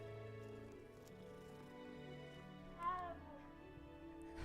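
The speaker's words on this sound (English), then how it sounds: "You guys hear that meow?" Brief, quiet meow from a cat in Hogwarts Legacy, sounding midway through over soft, sustained game music.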